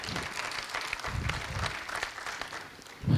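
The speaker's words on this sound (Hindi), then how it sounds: "चलो एक बार जोरदार ताली बजा दो फिर।" Applause from an audience at a Hindi kavi sammelan poetry gathering in Rohini, a short burst of uneven clapping with a few louder thumps.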